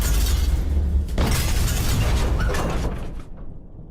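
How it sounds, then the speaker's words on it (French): A heavy rumbling blast of underwater depth charge explosions with crackling, shattering debris fills the clip, loud and low, then fades away into quiet. "Ces grenades font beaucoup de bruit."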